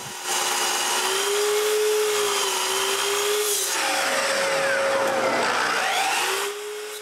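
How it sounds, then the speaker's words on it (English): A powered saw cuts a piece of wood in a workshop building a wooden bandsaw. Its steady whine drops and rises as the blade bites into the wood, loud and close throughout with no voices. "So I just cut a bit of wood."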